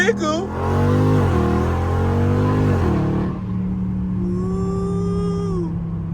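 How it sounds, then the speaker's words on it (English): A Dodge Charger Scat Pack in blacked-out trim revs hard twice from inside the car, its deep engine note climbing and falling, then settles to a steady low drone as a voice briefly speaks. "My car don't even sound that loud for real no more."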